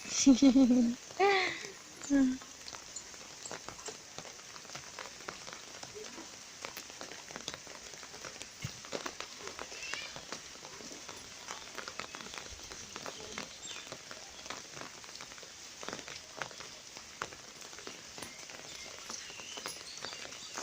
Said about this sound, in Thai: บางทีอาจจะมีเสียงแบบเสียงฝนกระทบร่มรบกวนหน่อยนะคะ